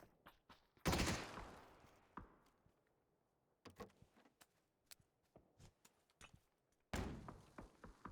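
Gunfire in a PUBG esports scrim match, bursts of shots including a loud volley near the start and another near the end, with scattered single cracks and thuds between them.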